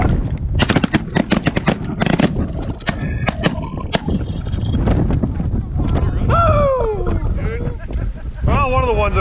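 Shotgun blasts fired at geese during a rainy goose hunt with a large group, a rapid volley of sharp cracks early on, followed by wind buffeting and goose honks, with people shouting in between.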